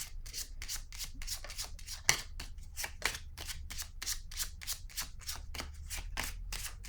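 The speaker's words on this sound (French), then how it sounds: "Je vais déposer une carte ici par curiosité." A rapid, steady run of soft card slaps and rustles as tarot cards are laid down on a table, close and fairly quiet, with no talking.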